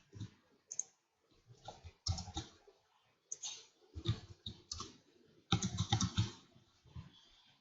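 Typing on a computer keyboard while entering code, with irregular bursts of close clicking keystrokes separated by short pauses, fairly quiet and with no talking.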